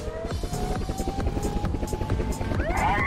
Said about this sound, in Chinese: 快派直升机来